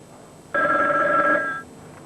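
A telephone bell rings once in an office scene from a 1994 Pakistani TV drama, a single loud, steady electronic ring lasting about a second before cutting off, with no talk over it.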